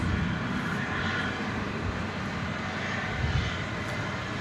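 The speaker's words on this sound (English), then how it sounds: "We should be getting pretty close to the departure of the flight to Istanbul." A Turkish Airlines jet departing DFW Airport for Istanbul roars steadily in the distance, a sustained broad engine rumble with no voices.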